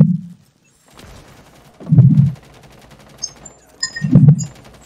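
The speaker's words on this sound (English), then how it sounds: "There's a lot of shooting." Gunfire in Rainbow Six Siege, several loud close bursts of automatic shots spaced a couple of seconds apart, with quiet gaps and faint game sounds between them.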